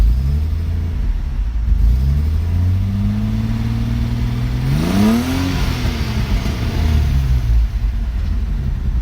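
A warm 1971 Datsun 240Z engine idles steadily and loud up close, a deep continuous rumble with a brief rise in pitch around the middle before settling back to a smooth idle.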